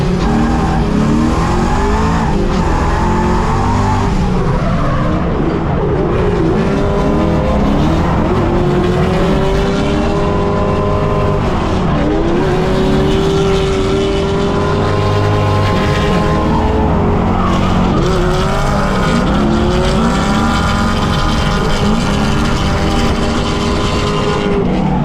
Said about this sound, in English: Making so much torque down low is just blowing the tires off on the entry.